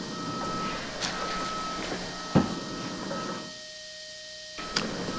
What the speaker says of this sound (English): You're going to have to listen to that beeping through the whole council meeting.